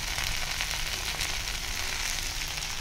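Okra (bhindi) fries in a pan, giving a steady, close hiss and sizzle with fine crackling, continuous and without voices.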